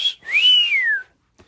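A human voice imitates a wolf whistle, the kind a guitarist gives on stopping his mowing: one short high note, then a rising and falling slide of about a second, heard alone and fairly close.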